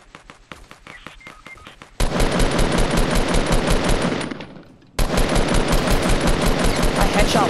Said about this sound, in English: Hey, shots over here. You're getting shot at?